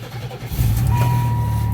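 A 1994 Oldsmobile Silhouette APV's fuel-injected engine cold-starts, cranking briefly before catching and settling into a steady idle, while a high, sustained chime tone sounds over the running engine.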